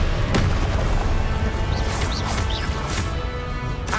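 A Confringo blast spell bursts in Hogwarts Legacy amid dense, loud crashing combat noise, with a sharp hit early on and sustained rumbling impacts throughout.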